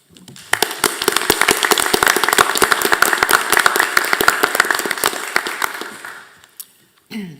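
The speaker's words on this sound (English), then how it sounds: "really thank you and give you a round of applause" Loud, sustained applause from a school board meeting audience, dense clapping that swells for several seconds and then tapers off, with a brief voice near the end.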